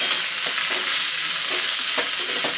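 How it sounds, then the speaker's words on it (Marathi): Chopped onion sautéing in a pan for a chutney, a steady bright sizzle with soft scraping stirs at intervals, close and continuous with no talking. "त्याच्यामध्ये आपल्याला हा जो कांदा आपण चिरून घेतला आहे ना तो घालायचा आहे कांदा आपल्याला छान गुलाबी रंगावरती परतून घ्यायचा आहे"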